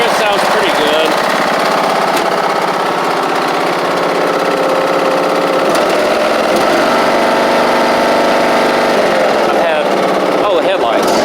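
A Husqvarna YTH2042 riding mower engine runs close and loud at a steady idle with a buzzing drone, speech intermittently over it.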